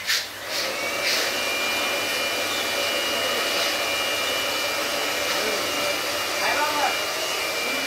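A roaster machine frying puffed rice gives a steady, loud blower-like roar throughout, with a few faint clinks and rustles layered over the continuous whirr.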